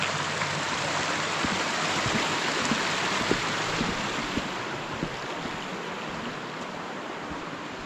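Krasnički creek, a mountain stream on the Treskavica hiking route, flows in a steady, dense rush of water that stays even and close throughout, with no voices.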